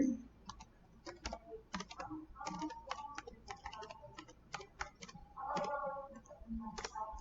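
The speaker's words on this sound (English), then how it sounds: "So you have to type in your password." A password is typed on a computer keyboard, heard as a quick, irregular run of close, crisp key clicks with brief pauses between bursts and no speech.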